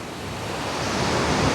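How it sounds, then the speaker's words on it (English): Ocean waves at the seaside with strong wind buffeting the microphone, forming a loud, continuous rushing roar that slowly swells, with no voices. "You might hear the ocean waves or the strong wind in my microphone."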